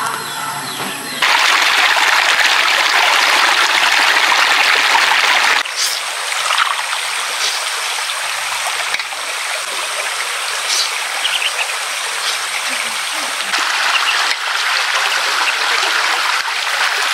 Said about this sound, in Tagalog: dito kami ngayon sa ilog, naglalaba po si Ate Geraldine